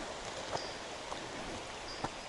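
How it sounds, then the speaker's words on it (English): A small mountain feeder creek in the Cohutta Wilderness runs with a soft, steady babble of flowing water. A few faint splashes or clicks stand out along the way. "Little tiny feeder creek here coming down the mountain."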